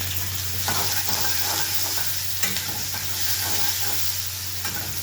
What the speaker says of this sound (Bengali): এবার পেঁয়াজটা একটু ভাজা ভাজা করবো আর টমেটো গলে যাব গলে যাবে সে পর্যন্ত ভাজা ভাজা করবো